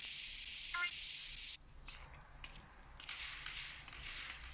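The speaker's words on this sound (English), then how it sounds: "So I'll just go spray paint somebody's house." A loud, steady hiss of a spray paint can in GTA San Andreas blasting for about a second and a half, then cutting off, leaving quieter background noise.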